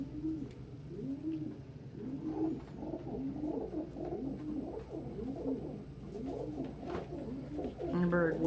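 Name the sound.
pet bird cooing, wooing its mate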